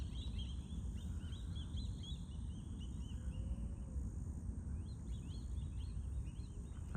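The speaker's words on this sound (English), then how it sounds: "I was listening to them birds over there" Birds call from a distance near a pasture on a morning hike in a nature preserve, faint chirps and short whistles over a steady low wind and outdoor rumble.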